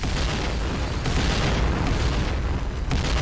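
A bomb hit explodes in a tank battle video game as a loud, dense, rumbling boom that fills the whole moment with no break.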